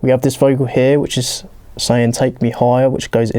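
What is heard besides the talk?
None of the usual background noises is heard.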